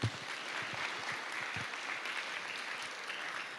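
Audience at the 2025 Oswego athletic awards ceremony clapping, a dense, steady round of applause with a few distinct claps standing out near the start, no voices.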